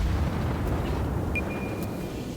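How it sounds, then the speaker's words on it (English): A heavy, rumbling torpedo-hit explosion in World of Warships against a Japanese cruiser battle, a sustained low roar filling the whole moment with a faint high whine passing over it. "I did get him with torpedoes."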